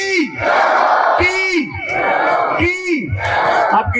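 A crowd at a Rajasthani comedy and folk music show roars a devotional cheer for Chainpuri ji Maharaj in loud, repeated massed shouts, three or four swelling bursts, each starting with a falling vocal call.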